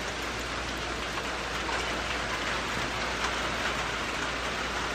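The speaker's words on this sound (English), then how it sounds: "It's raining." Steady rain falls on a covered RV and its surroundings, a dense, even hiss that holds constant and fairly near with no voices.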